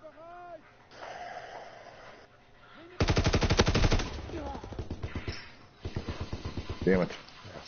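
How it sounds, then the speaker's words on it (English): Gunfire in a World War II shooter video game: bursts of rapid automatic fire and single shots crackle close by, with a player's breaths and brief vocal sounds between volleys. "they're shooting at me"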